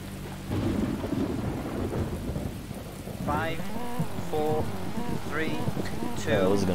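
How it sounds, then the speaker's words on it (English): Heavy rain pours steadily with rumbling thunder in a wet rally stage of the Colin McRae Rally 2005 PC game, and a voice talks over the storm for most of the stretch. "The rain is more now."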